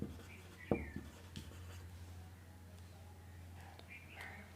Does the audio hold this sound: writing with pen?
yes